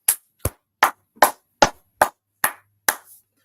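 Eight sharp, evenly spaced claps from a small group, ringing out loud and close in unison at a steady beat of roughly two per second, with silence between each.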